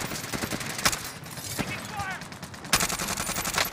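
Rapid bursts of automatic gunfire in Call of Duty Warzone, a quad match in Verdansk, crackling in repeated volleys with sharp louder cracks, while players talk over the shooting.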